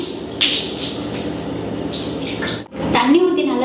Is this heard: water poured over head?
yes